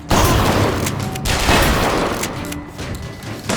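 Rapid gunfire in the Bioshock Infinite video game, a dense loud burst of overlapping shots and booms packed close together across a few seconds, with no talk.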